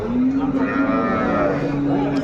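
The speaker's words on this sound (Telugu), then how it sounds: "ఇక్కడ కూడా ఒకటి జెర్సీ ఆవు అయితే ఉంది" A Jersey cow moos in a single long, loud, sustained low call at a busy cattle market in Palamaner, close to the listener against a steady background of crowd noise.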